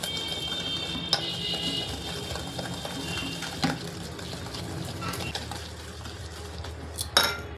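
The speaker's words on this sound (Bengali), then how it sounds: "প্রথমে আমি এই চিনিটাকে তেল দিয়ে ভালো করে মিশিয়ে নেব।" Sugar and oil being mixed in a bowl for eggless cake batter, with a steady close scraping and clinking of a utensil against the bowl and a few louder knocks, no talking.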